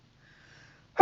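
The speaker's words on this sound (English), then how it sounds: "Oh, that's a good sneeze." A single sharp sneeze bursts out close by at the very end, after a faint, breathy lead-in.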